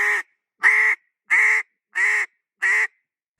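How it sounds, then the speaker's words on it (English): Five evenly spaced, loud quacks blown on a duck call, each a short burst with a brief pause between, sounding close and clear with no other sound around them. "because that quack, if I try to do the quack in that cadence"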